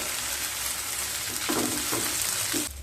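Broken wheat grains crackle and hiss while dry-roasting in a hot pan, with a few scraping stirs near the end.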